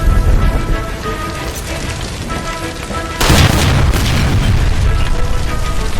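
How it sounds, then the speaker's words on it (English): A gas line explodes in the video game L.A. Noire, a sudden loud boom about halfway through that stays as a dense roaring blast over a busy background of game sound and music, with no speech. "Shoot the gas line, Cole, we're out of here!"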